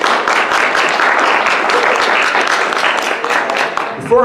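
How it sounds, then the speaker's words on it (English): Audience applause for a guest at a cosplay fan convention show, a dense, steady burst of clapping from a crowd for about four seconds before a voice cuts in. "Give her a round of applause."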